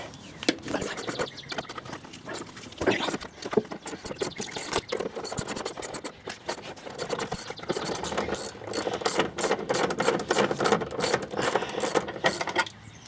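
A ratchet wrench works on a 14 mm shock bolt of a 2008 Honda Odyssey, giving dense runs of close, rapid clicking and mechanical rattling that continue throughout.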